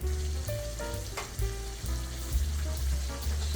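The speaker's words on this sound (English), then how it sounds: "Frying good now." Steady, loud sizzling and crackling of chicken fried steak frying in hot oil in a pan, continuous throughout with no voices.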